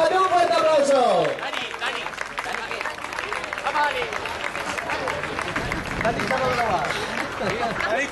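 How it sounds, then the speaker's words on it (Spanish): Spectators clapping at the finish line of the Lantzeluze 2011 footrace, a steady patter of applause and crowd noise beneath a loud announcer calling over it throughout. "Txalo Beroa, un fuerte aplauso"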